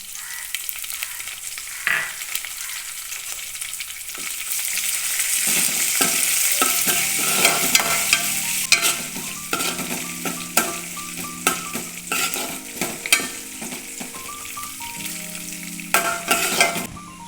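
Beef pickle mix sautéing with slit green chillies and curry leaves in a hot pan, a steady loud sizzle and crackle throughout, with occasional scraping stirs and light utensil clinks and no talking.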